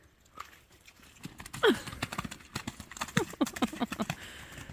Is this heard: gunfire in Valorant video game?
no